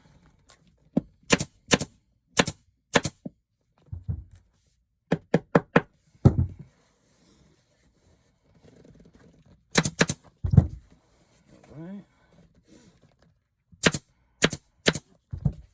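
A staple gun drives staples through upholstery fabric into a dining chair frame, making sharp, close snaps in quick clusters of two to four, separated by pauses with soft handling and rustling.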